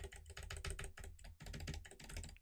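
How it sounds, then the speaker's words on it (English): Fast typing on a computer keyboard, close-up and crisp, with dense rapid clicks in irregular bursts and a couple of brief pauses. "It's picking up on my keyboard when I do that."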